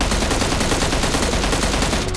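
A Mini 14 rifle in PUBG Mobile fires nonstop in a fast, even stream of shots, loud and up close throughout, with no voices over it.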